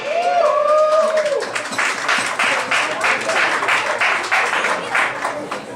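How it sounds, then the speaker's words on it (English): Applause from a comedy show audience at a cafe fills the room, a steady crowd of clapping hands sustained for several seconds after a brief voice, fairly close and loud. "Thank you for the claps."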